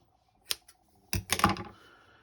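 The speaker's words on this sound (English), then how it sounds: "insert your scissors and cut at the bottom" A few sharp, crisp snips close by as scissors cut the bottom of a paper tassel, a single click followed by a short cluster of cutting sounds, quiet surroundings.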